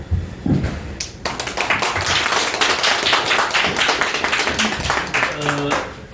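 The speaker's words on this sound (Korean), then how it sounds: "여러분 큰 박수로 환영해 주세요." An audience at a Korean economics seminar's opening ceremony breaks into sustained, dense applause to welcome a speaker, a loud crowd clapping for several seconds before a voice begins speaking at the end.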